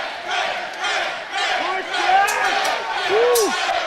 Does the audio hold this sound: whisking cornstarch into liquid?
no